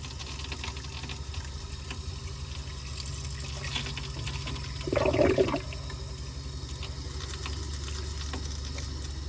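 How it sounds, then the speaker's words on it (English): Hot water runs from a faucet while antifreeze is flushed from a winterized plumbing system, a steady low rush with a brief louder gush partway through, and no talking. "I'm going to turn on the hot water side of my faucet"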